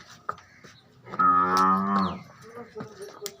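A Nili buffalo gives a single loud, nearby moo lasting about a second, with low grunts and small shuffling noises before and after.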